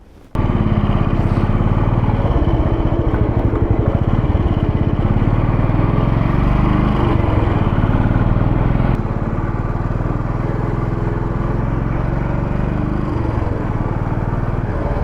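A Royal Enfield 500 Bullet single-cylinder motorcycle thumps along twisty roads in the UK, its loud, steady engine note heard close from on board, with a slight shift in tone partway through and no talking.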